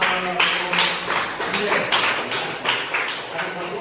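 Classroom applause after a group presentation, a short run of scattered claps close by with a voice talking over them.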